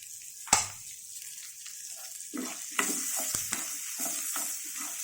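Fenugreek and mustard seeds frying in a pan for a coconut, raw mango and tomato chutney: a soft, quiet sizzle with one sharp utensil clink near the start, then scattered stirring scrapes and taps.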